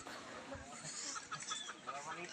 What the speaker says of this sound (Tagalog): Ayun may mga manok po dito